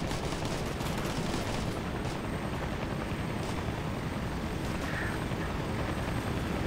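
Gunfire in the video game Operation Flashpoint: Red River, a dense roar of shots and rumbling battle noise that holds steady and loud throughout, with no voices.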